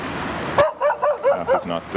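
An unfriendly dog on a street on Vasilievsky Island barks about six times in a steady, close, loud series, each bark sharp and clipped, after a quieter opening of background hum.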